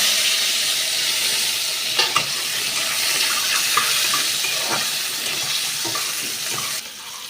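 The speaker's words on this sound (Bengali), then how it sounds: "কালো জিরে দিয়ে আমি আগে থেকে কেটে রাখা পেঁয়াজ আর টমেটোটা এর মধ্যে দিয়ে হালকা করে ভেজে নেব।" Chopped onion, tomato and nigella seeds fry in hot oil with a steady, close sizzle and hiss, broken by a few scraping stirs, with no one speaking.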